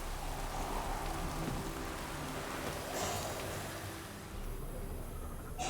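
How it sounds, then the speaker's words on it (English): In the video game The Witcher 3, rain falls as a dense, continuous hiss of droplets that stays steady and fairly loud before thinning slightly toward the end. "Looks like rain."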